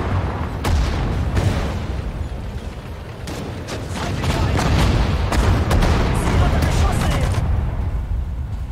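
Heavy cannon blasts boom repeatedly over a dense, rumbling battle din in the video game Sudden Strike 4, Battle of Kursk, with sharp impacts scattered throughout.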